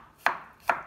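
A sharp kitchen knife slices crushed garlic on a cutting board, giving two crisp chops about half a second apart. The chops are close and clear against a quiet background.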